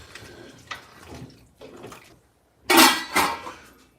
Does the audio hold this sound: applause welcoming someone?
no